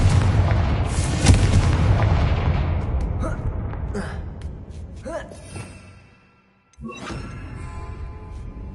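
A Confringo spell blast from a Hogwarts video game goes off loudly near the start, then rumbles away over crackling debris, followed by a brief silence and a second sharp burst with a lingering tail.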